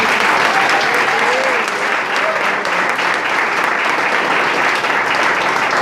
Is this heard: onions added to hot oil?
no